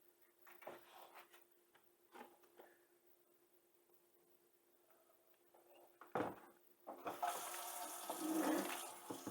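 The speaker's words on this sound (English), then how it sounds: "I'm gonna rinse it off and we'll see what we get." A humidifier part is rinsed under a running tap. Quiet clinks and handling come first, then the water starts and turns into a loud, steady splashing rush that lasts to the end.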